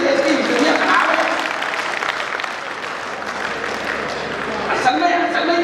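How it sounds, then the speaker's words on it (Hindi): An audience at a Hindi comedy poetry gathering claps along, a continuous rumble of crowd applause with a voice audible over it. "थोड़ी तालियां बजा दें"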